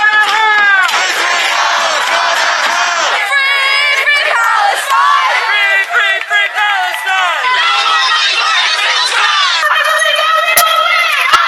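A street protest crowd chanting and cheering, loud massed voices yelling and whooping in rhythmic bursts, dense and close, with brief dips before surging again.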